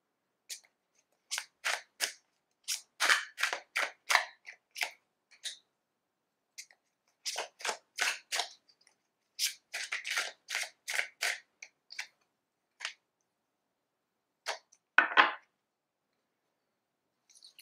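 Crisp bursts of tarot cards riffling and slapping together, coming in irregular clusters with short pauses between, close and fairly quiet.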